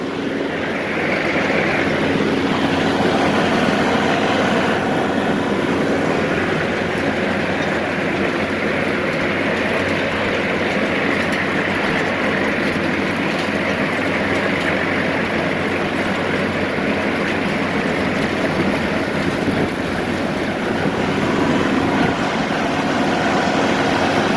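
A tractor-driven Woods mower runs under power with the PTO engaged, producing a loud, steady engine drone and mechanical roar that continues unbroken with no pauses.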